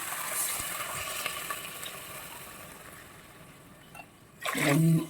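About two and a half glasses of water poured into a pot of rice for mutton pulao: a soft, steady watery hiss that ends in a louder, brief splash.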